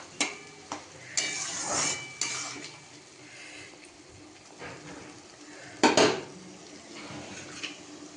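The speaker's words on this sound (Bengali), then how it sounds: "এই যে টমেটো মশলা সব দিয়ে দিলাম এগুলো কষা হোক" Tomato and spice masala for a katla fish head kalia is sautéed and stirred in a pan. Bursts of metal scraping and clattering from the spoon come over a faint background sizzle, loudest near the end.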